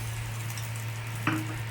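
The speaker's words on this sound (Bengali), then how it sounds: "এবার আমি একটু ডিম দিয়ে দিচ্ছি" An egg is added to a hot frying pan, giving a brief sharp sizzle burst near the end over a low steady hum and faint background frying.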